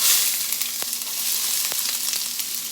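Chopped onion frying in a hot pan for beef flautas, a steady close sizzle and crackle with a few sharp pops and no talking.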